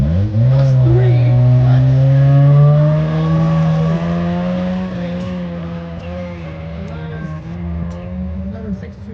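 Honda Civic race car, number 628, on a night SCCA autocross course in Fresno, its engine note rising and holding steady as it pulls through a turn, fairly close and loud, then easing slightly.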